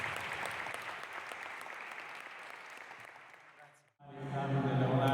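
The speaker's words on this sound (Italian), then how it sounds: "Applauso meritato." Audience applause after a song performance with violin and choir accompaniment, dense sustained clapping that fades and briefly drops out before a louder, richer burst of sound resumes near the end.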